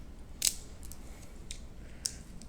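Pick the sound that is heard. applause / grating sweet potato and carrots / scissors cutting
scissors cutting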